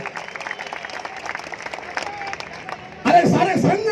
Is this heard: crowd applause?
yes